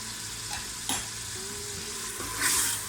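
Turmeric, red chilli and salt masala being stirred and fried in a pan for masoor dal, a steady sizzle with scraping stirs and a brief clink, close and continuous with no talking.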